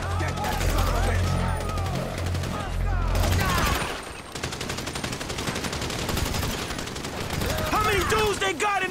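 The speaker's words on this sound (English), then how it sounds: "So I guess we're shooting our way out of here!" Dense gunfire in a Grand Theft Auto 5 shootout, with rapid automatic bursts and sharp individual shots rattling almost without pause. Shouting voices break in over the firing.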